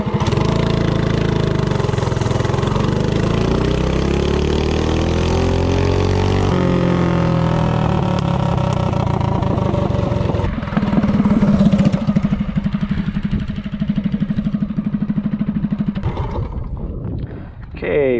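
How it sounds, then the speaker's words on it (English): A DuroMax 208 small engine fitted with a long intake manifold runs loud and close throughout a 0-30 top-speed acceleration run, its pitch sweeping and rising steadily, then dropping away near the end. "let's go test 0-30 in top speed with the long intake manifold"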